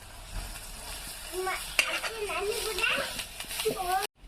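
Shepu (dill) leaves dropped into hot oil to fry, a moderate crackling sizzle with stirring sounds beneath someone talking, then cutting off abruptly near the end.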